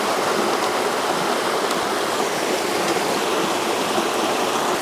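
A waterfall in Banff National Park roars right beside the microphone, a loud, dense, unbroken rush of falling water that holds steady from start to finish with no other sounds.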